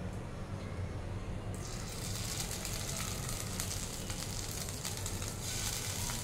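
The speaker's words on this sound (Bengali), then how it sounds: "এবার আমি একে একে চিকেনের ছোট ছোট পিসগুলো আমি দিয়ে দিচ্ছি।" Small chicken pieces dropped one by one into a hot pan, a dense, loud hiss of frying that jumps brighter after the first second and crackles steadily throughout.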